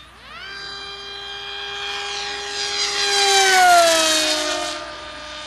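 HobbyKing SkyFighter V3 RC plane flying past with a whistling tone, its pitched engine note swelling louder as it approaches then dropping and fading as it moves away, with no talk.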